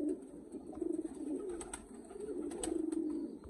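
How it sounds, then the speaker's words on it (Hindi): Pigeon cooing from a breeder's loft where Kamagar and Wehshi pigeon pairs are kept, with low repeated coos in two phrases, fairly close and moderately loud, no speech. "ये बड़ा अच्छा कबूतर है।"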